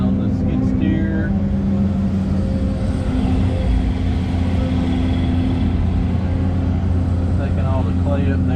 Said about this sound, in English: John's on the skid steer